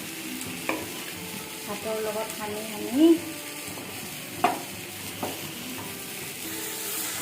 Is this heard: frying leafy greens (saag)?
yes